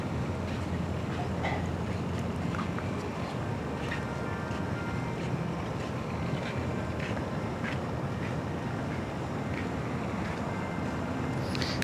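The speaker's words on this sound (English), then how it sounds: "there's this nice breeze" Warm breeze outdoors at Balboa Park in San Diego, a constant loud rushing of wind buffeting the microphone without a break.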